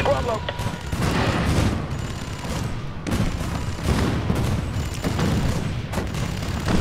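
Turrets firing in the Spore video game: dense, rapid bursts of booming gunfire, loud and continuous, with a voice talking over the shots.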